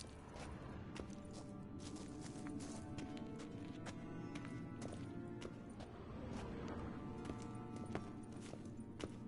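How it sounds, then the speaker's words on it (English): Hooves of Kelpie, Geralt's horse in the Witcher 3 video game, clip-clop in a steady running rhythm over a low ambient bed, with sharp scattered impacts, a brief whinny and no voices. "Another horse. Almost exactly like the last one."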